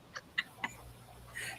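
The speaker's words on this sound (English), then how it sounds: "No, that was my phone." A phone notification tone that sounds like a clucking chicken, three short clucks in quick succession, fairly quiet, followed by a soft burst of noise in a quiet room.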